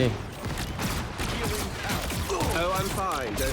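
Iron Man firing beams in the Marvel Rivals video game, a dense, continuous blast of energy-weapon fire with crackling bursts, while someone talks excitedly over it.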